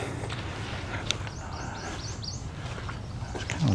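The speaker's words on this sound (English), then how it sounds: "That's an osprey that I'm hearing" An osprey gives a series of thin, high, whistled chirps in the distance at Dutch Gap, faint against a steady outdoor rumble.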